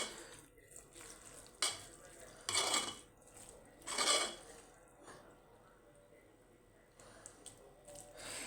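Rice coated in oil is stirred in a pot, giving soft scraping and clinking strokes in irregular bursts with quiet gaps between, fairly faint and close.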